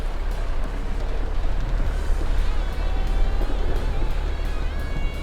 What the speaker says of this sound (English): Ford Transit County, four-wheel drive, going through the Seiford Ford.